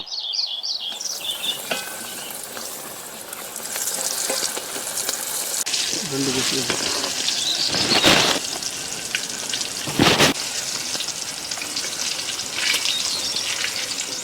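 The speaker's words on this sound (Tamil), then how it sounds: "நல்லா ஃப்ரை பண்ணி எடுத்துக்கலாங்க." KFC-style turkey pieces deep frying in hot oil, a steady dense crackling sizzle throughout with a few louder bursts of bubbling and stirring, heard close with no talking.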